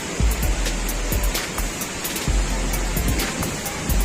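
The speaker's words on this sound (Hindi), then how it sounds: "आवाज पानी की आपको आती होगी" Rushing water from a mountain waterfall near Saifullah Lake in Kalam, a dense, continuous roar close by with low rumbling surges and occasional sharper splashes, loud and unbroken with no talk over it.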